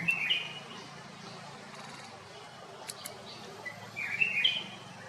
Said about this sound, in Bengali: আর এই পাখিটা খুব মিষ্টি সুরে গান গেয়ে যাচ্ছে একটু শুনুন